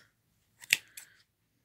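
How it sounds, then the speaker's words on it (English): Two quick scissor snips through crochet yarn loops, close and crisp, in otherwise near silence. "You start snipping all the little loops."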